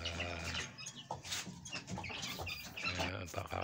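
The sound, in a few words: chicks chirping while being fed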